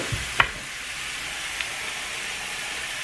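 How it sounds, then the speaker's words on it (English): Onions frying in bacon and pork sausage grease for Zuppa Toscana soup, a steady soft sizzle and hiss with a couple of brief stirring clicks near the start, close by and with no talking. "I'm going to add the onions."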